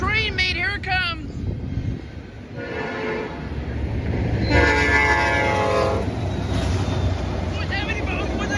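Train horn blasts as a train passes the state route 61 crossing in Huron, Ohio, followed by a steady rolling rumble of the cars close by; a voice speaks over the start.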